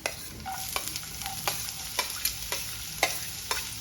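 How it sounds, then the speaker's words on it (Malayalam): Sliced onions frying with garlic in a pan for a lady's finger stir fry, a steady sizzle broken by regular scraping stirs of a spoon against the pan, close and moderately quiet. "ഇനി അതിലേക്ക് സവാള ഇട്ട് കൊടുക്കാം"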